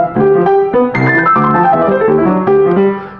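A piano plays a quick descending pentatonic scale run, clear and close, with chords ringing underneath and no voices.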